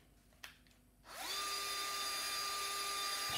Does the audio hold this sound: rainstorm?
no